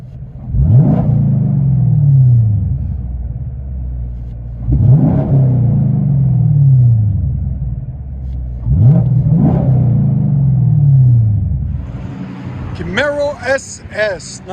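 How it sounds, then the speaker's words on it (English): From inside the cabin, a 2018 Chevy Camaro SS 6.2L V8 with Dynomax Race Bullets exhaust revs three times, each sharp climb sinking back to a muffled idle rumble, with a short bit of speech at the end. "Let you guys hear on the inside."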